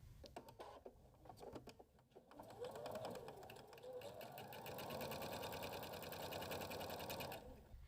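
A sewing machine stitches pinned quilt pieces for a table topper, a steady, fast mechanical whir running continuously and close up after a few brief handling sounds at the start.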